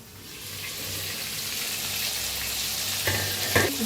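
Masala for a ridge gourd dish fries in oil with a close, steady sizzle, punctuated near the end by a couple of louder stirring scrapes and bursts, and nobody speaks.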